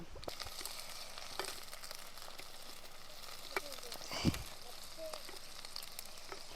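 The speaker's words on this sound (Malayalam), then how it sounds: "നല്ലെണ്ണ ഒഴിച്ച് നമ്മൾ ഉലുവ പൊട്ടിക്കുന്നുണ്ട് ഇനി നമ്മൾ ഇതിലേക്ക് ഇടാൻ പോണത് നമ്മുടെ ഇഞ്ചി വെളുത്തുള്ളി ചെറിയുള്ളി പച്ചമുളക്" Fenugreek seeds, ginger, garlic, shallots and green chillies fry in sesame oil, a faint bed of crackling with scattered small pops and one sharper spatter.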